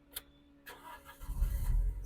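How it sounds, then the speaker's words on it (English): A Renault Megane Convertible engine starting after a faint click or two, the starter catching and the motor firing into a low rumble right at the end, close by. "you can install key to the slot like this and start the car"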